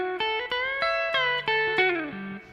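An electric guitar plays the stuttering hiccup entry from a song. Short choppy notes step through a quick lick and end on a lower sliding note. The tone is close, slightly driven and unaccompanied, with no talking.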